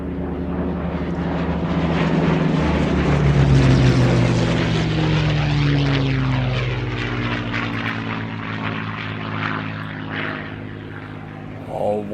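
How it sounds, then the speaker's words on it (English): Vintage piston-engined aircraft with Rolls-Royce Merlin and Bristol Mercury engines, including a Gladiator biplane, flying past at an air display, a loud sustained propeller drone with falling engine tones as the planes pass and recede. "with the Merlins and also with a combination of that Bristol Mercury engine from the wonderful Gladiator"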